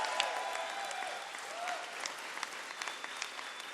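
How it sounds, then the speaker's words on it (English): A large audience at a minimum wage announcement by the New York governor applauds, a dense, even wash of clapping heard from a distance and fairly faint, without speech. "Let's give them a round of applause for that"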